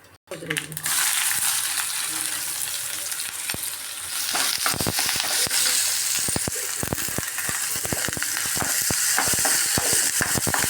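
A strong, steady sizzle of onions frying on low heat starts suddenly and continues, punctuated by frequent scraping stirs and clacks of a spoon against the pan.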